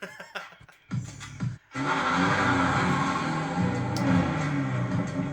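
Mazda Miata engine revving in the racing game Need for Speed Underground, a steady loud drone after a few brief choppy bursts at the start, with no talking.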